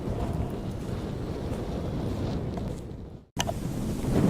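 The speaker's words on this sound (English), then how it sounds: "when the wind's been blowing this hard, it actually creates a current in the pond" Strong wind buffets the microphone beside a small farm pond, a steady loud roar of gusts that cuts out briefly near the end and then returns at full strength.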